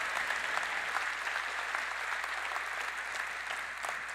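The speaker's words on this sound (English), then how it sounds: "Please clap." A large audience at the Nvidia Computex keynote claps in a dense, sustained burst that runs steadily throughout, with faint crowd noise mixed in.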